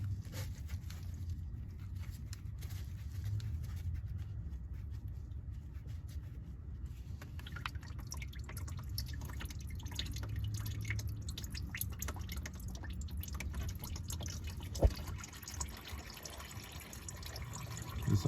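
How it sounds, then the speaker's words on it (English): Engine oil draining from the oil filter housing of a 2018 Ford Focus SE, a steady close trickle and patter of liquid running into a pan, continuous and fairly faint with no voices. "This is all the oil that's in the filter and in the housing. We'll give that a minute to drain."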